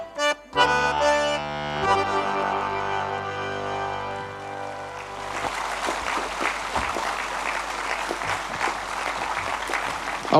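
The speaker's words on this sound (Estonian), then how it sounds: "Aplaus, Juhan Upin." An audience applauds at an accordion concert. The last sustained accordion chords fade out, then dense, steady clapping fills the hall, loud and continuous to the end.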